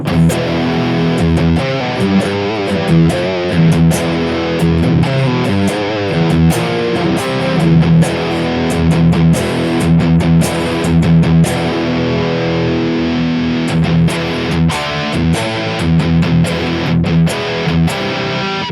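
Heavily distorted electric guitar plays continuously through an Orange TH30 amplifier, chords and riffs driven through high gain, loud and saturated with no talking.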